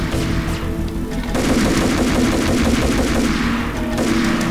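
Sustained rapid gunfire from the video game Max Payne, a dense rattle of repeated shots running through most of the stretch, loud and continuous with no talk over it.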